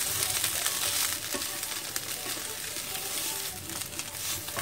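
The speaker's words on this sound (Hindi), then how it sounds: "जब तक मसाला भुज रहा है" Spice masala of chilli powder, dry mango powder, cumin powder and salt frying in a pan for paneer parathas, giving a steady close sizzle with soft stirring throughout.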